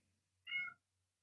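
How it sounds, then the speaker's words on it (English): A single short, clear house cat meow, fairly close, in an otherwise quiet room. "Was that a cat?"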